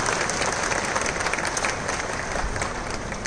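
Sustained applause from an audience at an honour ceremony held in a temple, dense clapping running steadily and evenly throughout without pause, with no voices rising above it.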